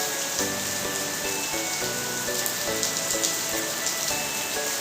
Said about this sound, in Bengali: কিন্তু দেখো কি জমুর বৃষ্টি নামছে।